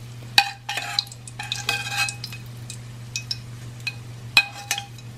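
Peanuts fry in hot oil in a pan and are stirred, giving a soft sizzle broken by sharp metallic scrapes and clinks from a utensil, close and irregular, under a steady low hum.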